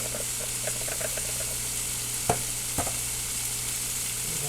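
A pot of seasoned leftover chicken and shrimp gets stirred, with a soft, even hiss of heat and two distinct spoon knocks against the pot partway through.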